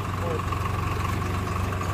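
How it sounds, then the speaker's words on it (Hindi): Tractor engine running while off-roading up a hilly village road, a steady low chugging drone with a firm rhythmic beat, close and loud for the whole clip, with voices heard over it. "ट्रैक्टर की ऑफ रोडिंग तो पहली बार देख रहे हो भाई आप"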